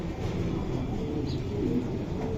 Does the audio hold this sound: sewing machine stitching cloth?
no